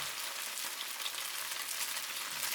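Tofu pieces fry lightly in a pan, giving a soft, even, continuous sizzle at low volume with no voices.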